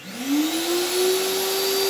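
Electrolux Flex 1400 wet and dry vacuum cleaner starting up, its motor whine rising quickly in pitch and then holding a loud, steady drone close by.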